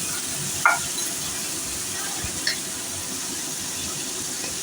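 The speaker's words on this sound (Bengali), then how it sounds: "তারপরে মশলাটাকে কষিয়ে নেব" Masala sautés in a pan for an ol kochu dalna vegetable curry, a quiet steady sizzle broken by a couple of sharp spoon knocks and scrapes.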